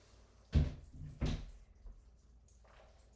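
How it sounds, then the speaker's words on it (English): Two soft thuds close together as a door swings shut, with a faint rattle afterward, in a quiet room with a washing machine running somewhere nearby. "I'm just gonna close this door."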